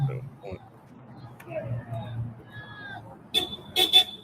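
Several short car horn toots sound at a distance near the end, following a stretch of people talking, with street background throughout.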